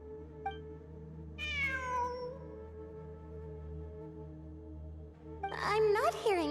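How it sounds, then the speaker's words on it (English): A cat in the video game Genshin Impact meows twice, a brief call near the start and a louder, drawn-out meow at about a second and a half, over a steady low game drone, then a bright chiming burst at the end. "It really is a cat."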